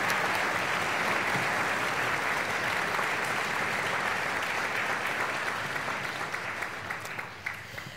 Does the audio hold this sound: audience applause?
yes